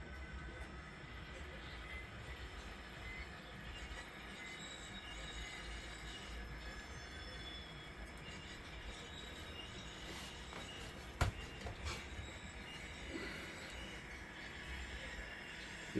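A model train rolls across a layout during an operating session, giving a steady close rumble with a faint wheel squeal and a sharp click partway through.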